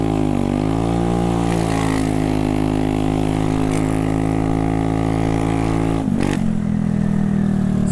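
Buddy 170i scooter accelerating hard off the line, a loud steady engine drone that climbs in pitch, dips briefly near the end, then pulls on again.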